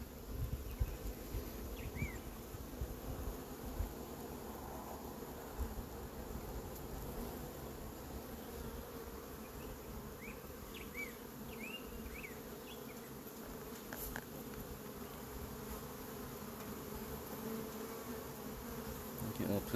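Russian honeybees swarm around a hive during a summer check, a dense, steady buzzing hum from many insects close by that runs without a break, with a few brief faint higher tones now and then.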